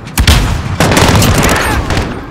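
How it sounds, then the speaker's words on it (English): A precision airstrike explosion in Call of Duty Modern Warfare, a loud booming blast followed by a second heavy impact and rolling rumble, close and sustained, with a voice talking over the din. "Precision airstrike, get down!"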